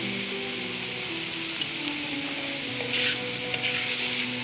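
Cabbage and capsicum stir-fry in a hot pan for vegetable macaroni, a steady, loud hiss of sizzling with occasional clinks of stirring running throughout.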